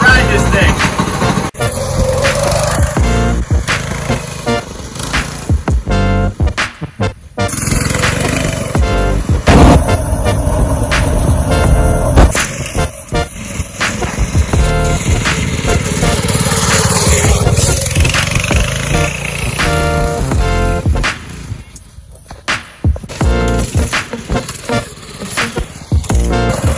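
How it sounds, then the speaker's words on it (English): Newly swapped go-kart engine running during a ride outdoors, a loud rough buzzing drone that rises and falls with throttle changes and bumps, close and continuous, with only faint talk. "We got a couple of hours of fun out of this new kart motor."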